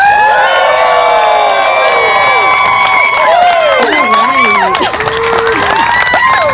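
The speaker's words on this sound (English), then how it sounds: "I want you to yell, scream, and clap as loud as possible" Wedding ceremony guests cheer, whoop, scream and clap together in a loud, sustained crowd roar with high shrieks rising and falling throughout.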